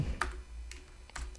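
A few light, crisp keystrokes on a computer keyboard while Dart code is typed, spaced in small bursts and fairly close, with no talk over them.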